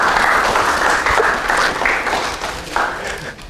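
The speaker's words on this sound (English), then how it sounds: "Clap your hands for her." An audience claps hands after a call to applaud a woman, a steady dense patter of clapping at moderate loudness that thins slightly toward the end, with faint voices underneath.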